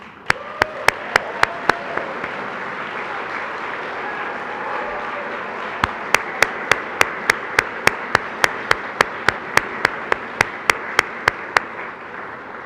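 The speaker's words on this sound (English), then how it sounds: "You deserve that applause." A banquet audience at an annual award gala applauds the committee staff with sustained, even clapping. Sharp, evenly spaced clicks cut through the applause throughout.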